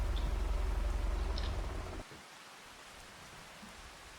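Steady rain hisses and patters over a gloomy November farm in Farming Simulator 25, a dense even wash that cuts off abruptly halfway through, leaving faint background ambience with a few small sounds.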